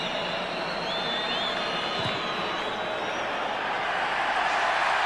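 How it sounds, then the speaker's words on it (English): At the 2003 Rugby World Cup match between Argentina and Romania, a stadium crowd keeps up a steady, distant roar of cheering with a whistle-like tone rising over it. "The crowd go wild as Romania"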